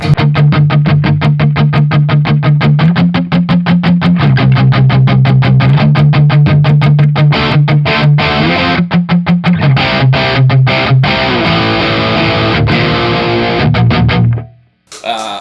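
Heavy distorted electric guitar through a JCM2000 DSL100 amp plays tight, chugging palm-muted notes in a fast steady rhythm, loud and up close, cutting off abruptly at the end.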